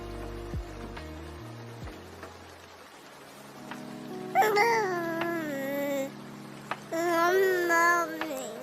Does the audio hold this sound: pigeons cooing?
no